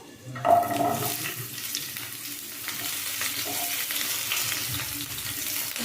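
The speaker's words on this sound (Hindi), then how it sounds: "प्याज को हमने यहाँ 1 मिनट तक फ्राई कर लेंगे।" Chopped onions frying in mustard oil in a pan, a sharp hiss as they hit the hot oil, then a steady close sizzle with stirring.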